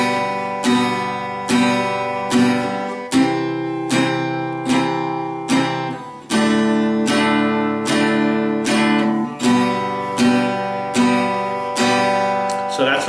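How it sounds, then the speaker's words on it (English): Steady down-strummed acoustic guitar chords moving through a chord progression, four even strums per measure in common time, clear and close with no talking. "Simple rhythm pattern, strum down, 4 beats per measure, common time."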